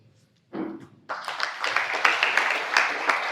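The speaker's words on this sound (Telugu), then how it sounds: "నా క్లాప్స్ నచ్చవు క్లాప్స్ వద్దు" An audience at a Heartfulness meditation talk breaks into applause: a brief burst of clapping, then a fuller, sustained round of many hands close by.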